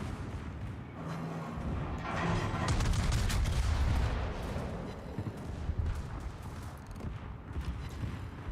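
A warship fires high-explosive shells in World of Warships, its heavy gun booms rolling loud and deep amid continuous battle rumble, with no talk.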